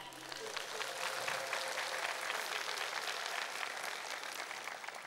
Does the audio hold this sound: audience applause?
yes